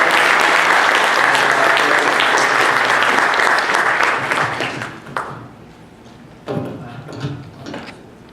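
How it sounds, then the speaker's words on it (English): A meetup crowd at a statistical programming talk applauds loudly and steadily for about five seconds, then the clapping thins out into scattered claps and faint room noise. "please give a round of applause"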